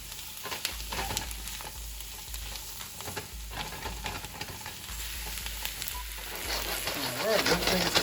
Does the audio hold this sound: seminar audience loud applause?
no